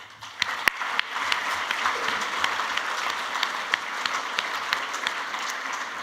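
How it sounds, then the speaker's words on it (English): Applause for the judges at an awards ceremony, a steady wash of many hands clapping from a sizeable audience, starting with a few sharp claps and swelling into continuous applause that holds for several seconds. "could we give a special round of applause, please, to our judges?"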